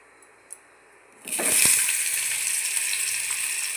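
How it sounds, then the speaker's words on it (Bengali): Vegetables hit hot oil already seasoned with panch phoron and a bay leaf, bursting into a loud, steady sizzle after a quiet moment and carrying on unbroken at close range. "তেলও গরম হয়ে গেছে এরপরে আমি আস্তে আস্তে সবজিগুলো ভেজে নেবো একটু একটু করে"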